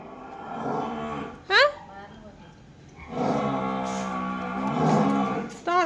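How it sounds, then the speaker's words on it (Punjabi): A buffalo bellows several times, long low moans with a brief sharper call between them, fairly close. "ਮੱਝ ਰਿੰਗੀ ਜਾਂਦੀ ਹੈ"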